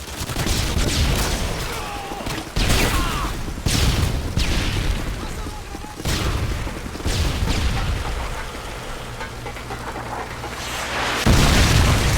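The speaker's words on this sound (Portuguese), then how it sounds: "Lançando uma granada de luz!" Flashbang grenades and gunfire in Modern Warfare 2 (2009) team deathmatch, Militia versus Task Force 141: repeated loud booming bursts, sharp pops and a steady low rumble fill the whole stretch, with brief shouted in-game callouts in Portuguese.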